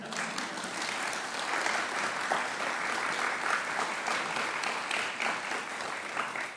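Applause from an audience at a memorial celebration of life, a broad, even wash of many hands clapping steadily for several seconds, moderately loud and without talk.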